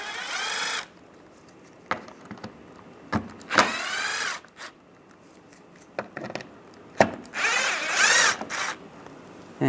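A powered driver with a T25 socket spins screws out of the front fascia of a 1998-2010 Volkswagen Beetle, giving several short whirring bursts separated by quiet pauses, close and fairly loud.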